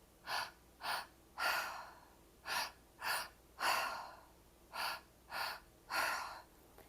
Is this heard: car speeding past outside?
no